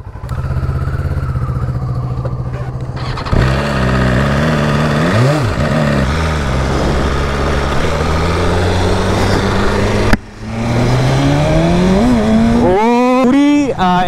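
A BMW S1000RR superbike is ridden with its engine droning steadily, then revving up and down. Near the end it accelerates, the engine note climbing sharply in pitch, with a brief dip in sound partway through.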